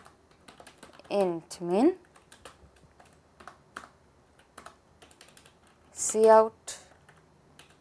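Computer keyboard typing while entering C++ code, with quick close key clicks in short bursts alongside a person talking through the code.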